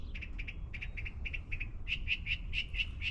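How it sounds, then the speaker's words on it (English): A rapid series of short, high chirps repeating in an uneven rhythm over a low, steady outdoor rumble, fairly close and clear. "The birds are chirping."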